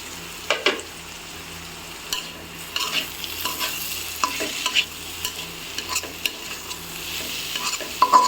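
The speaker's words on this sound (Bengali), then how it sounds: "3 মিনিটের মতো ঢাকনা দিয়ে ঢেকে এটাকে একটু ভেজে নেব" Pointed gourd (potol) fries in a pan, with a soft steady sizzle and scattered scraping stir strokes close by, no voices.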